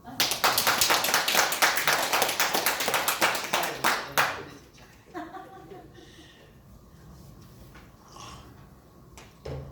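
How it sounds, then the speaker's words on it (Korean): An audience at a Daejonggyo religious sermon claps in quick, rhythmic unison for about four seconds, then stops abruptly. A voice and scattered small sounds follow in the quieter remainder. "지금 박수 안 쳐요?"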